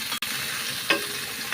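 Tomato and onion fry in a little oil in a pan, a steady bright sizzle with a brief dip and a short flare of hissing midway, no voices.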